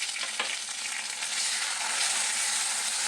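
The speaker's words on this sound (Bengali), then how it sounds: "ভালো করে এবার কষিয়ে নেব" Spices frying in a pan with a steady, loud, dense sizzle and crackle that holds for a few seconds, close by, with faint stirring underneath and no voices.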